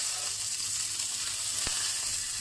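A seabass fillet fries skin-side down in hot oil, giving a close, steady sizzle with one brief sharp crackle partway through and no talking.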